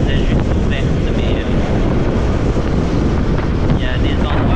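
Strong wind blowing outdoors near the Château de Marmande, a loud constant roar of gusts buffeting the microphone throughout, with faint higher tones briefly audible.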